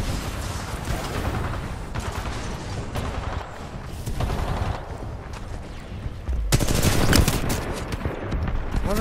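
Rapid automatic gunfire in the shooter video game Titanfall 2, dense bursts of loud, close shots rattling continuously with brief lulls and a heavier volley toward the end.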